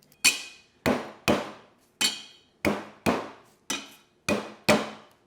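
A knife chops garlic finely on a cutting board, nine sharp, evenly spaced knocks, close and clear with nothing else around them.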